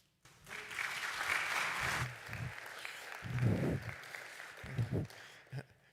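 Parish audience at a Lenten mission event clapping in welcome for a speaker, a steady broadband patter that tapers over several seconds, with scattered voices and low murmur mixed in beneath the clapping.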